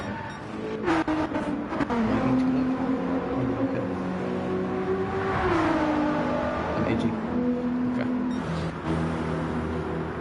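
A Ferrari 458 Italia in the Gran Turismo 7 racing game gives a loud, continuous engine note that revs up and down through gear changes at Circuit de Sainte Croix.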